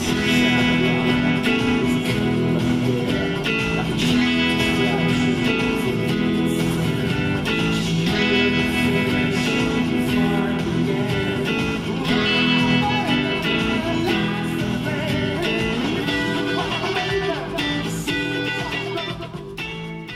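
Electric guitar playing the main part of a song, a steady, dense strummed riff running continuously at full level for about twenty seconds, fading slightly at the end, with no talking.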